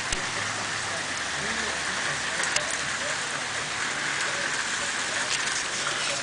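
Rain falls outdoors near a pond while blue sky still shows: a steady, even hiss of raindrops pattering on surfaces, continuous and fairly quiet, with a few faint voices underneath.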